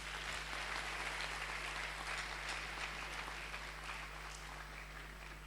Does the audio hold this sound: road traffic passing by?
no